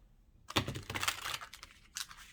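Tarot cards shuffled by hand in a quick burst of crisp riffling and slapping, close and fairly loud, ending with a short final flutter of cards.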